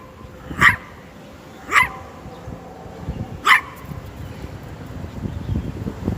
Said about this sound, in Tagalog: Basta pag ganyan na tumatahol ang aso sa kanya